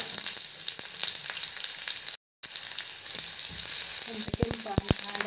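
Onion and a couple of garlic cloves fry in a pan, giving a bright steady sizzle with a brief dropout and some stirring clicks and scrapes near the end.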